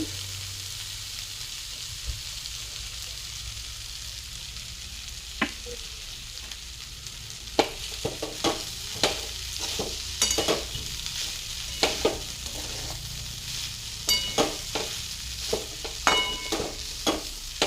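Dried grated potato khichdi with fried peanuts and salt is stirred in a pan over a low flame, a soft continuous sizzle punctuated by scattered spatula taps and scrapes that grow more frequent toward the end.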